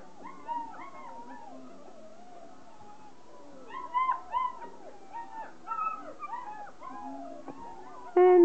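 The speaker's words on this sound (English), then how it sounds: "They're 7 weeks old, and we're going to miss my puppies" A litter of seven-week-old puppies whimpers and howls in overlapping high, wavering cries, fairly close and continuous, with louder yelps near the end and no talking.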